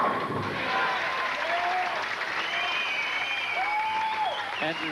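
A home crowd applauding at a 1992 FIQ Asian Zone Masters bowling match, a steady wash of clapping throughout, with faint whistles rising over it.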